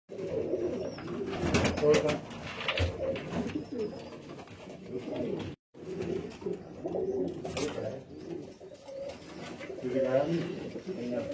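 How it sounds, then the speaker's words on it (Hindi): Ferozpuri pigeons coo in soft, repeated throaty rolls, fairly close, with other birds and faint background voices around them and a brief gap midway. "ये वही कबूतर है जो पिछली वीडियो में आपको शो करवाए थे। और ये फिरोजपुरी कबूतर।"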